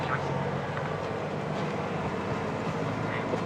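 A boat's engine runs at anchor while charging, a loud, steady, close mechanical drone with a broad rumble that holds constant throughout.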